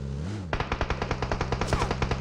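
Automatic gunfire in the battle-royale game PUBG rattles off in a rapid, evenly spaced burst of about fifteen loud, sharp shots, close and continuous, with no talk over it.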